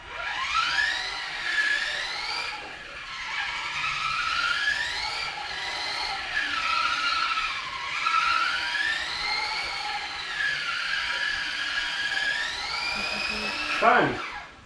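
An RC drift car's electric motor whines loudly on a track, its pitch sweeping up and down over and over as the car revs and slides, with a sharp dip near the end.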